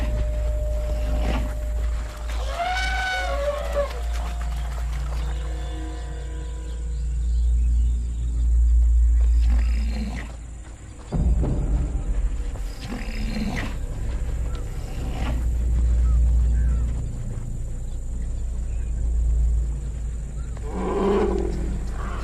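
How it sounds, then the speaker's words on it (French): A large tiger roars among wild animals including a rhinoceros and elephants, with deep rumbling growls and roars repeating through a long stretch, over a steady outdoor hum of insects and crickets and a few higher animal calls. "La présence de ce grand tigre affole même les animaux les plus imposants."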